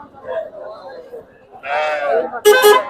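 Sheep bleat at a sheep market in Chitradurga, with a loud, close bleat near the end following softer animal calls, while people talk throughout.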